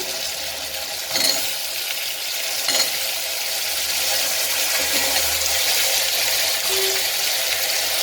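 Peas, beans and potatoes added to veg pulao in a pot and stirred; a steady sizzle-like frying hiss with a couple of brief clunks and scrapes as the vegetables go in, close and without talk.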